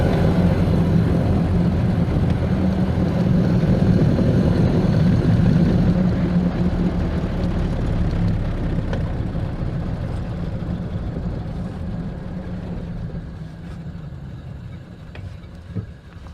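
A Ford Model A engine idles steadily with a low, even rumble, close and continuous, easing slightly quieter toward the end with no voices over it.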